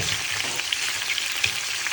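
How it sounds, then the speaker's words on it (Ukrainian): Continuous hissing and crackling of duck frying skin-side in a hot pan, close up, with a few small pops and light scraping, no voices. "Вже з однієї сторони наша качка підсмажилась."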